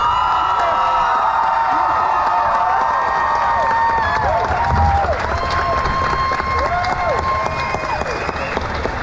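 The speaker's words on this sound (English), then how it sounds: "Let's give them a resounding round of applause." A crowd at a Universal Technical Institute graduation ceremony claps and cheers loudly, with whoops and shouts rising over sustained applause throughout.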